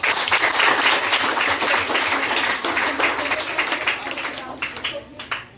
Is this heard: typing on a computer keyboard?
no